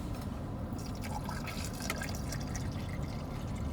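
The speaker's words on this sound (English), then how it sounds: "let's pour it in" A mixed drink is poured into a cup with ice, a steady liquid stream splashing and trickling at close range for several seconds.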